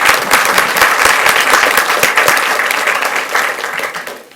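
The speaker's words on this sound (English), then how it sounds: "give them one more round of applause" An audience at a Fort Worth ISD school board meeting gives a loud round of applause. Close, dense clapping holds strong for a few seconds and then gradually tapers off.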